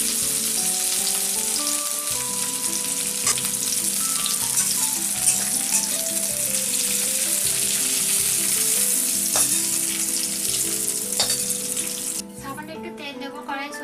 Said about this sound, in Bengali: প্রায় ভাজা হয়ে গিয়েছে